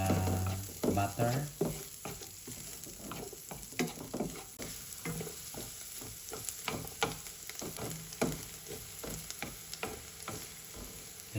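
Garlic fries in melted butter in a pan, a continuous close sizzle and crackle with scattered pops and stirring scrapes throughout.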